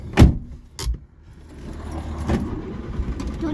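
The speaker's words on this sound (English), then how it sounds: "We have to go quick, because there's a car coming." A few sharp metallic jingles and clicks sound up front, then the low rumble of a car swells as it draws near.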